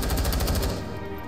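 Rapid automatic gunfire rattles in Rainbow Six Siege, a fast, loud burst of evenly spaced shots that cuts off after about a second into a fading echo.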